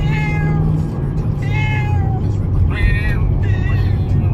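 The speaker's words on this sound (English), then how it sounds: "My cat is going crazy because he doesn't like being in cars" A male cat meows repeatedly in distress while riding in a moving car on the way to the vet, several drawn-out cries over a constant low engine and road hum.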